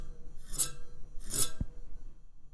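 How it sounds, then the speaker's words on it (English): Metal fins of a heatsink cooler from a 2000s computer are strummed twice, producing two short, bright metallic rasping sweeps with a faint ringing tail, quiet and close. "in case you're wondering what these fins sound like"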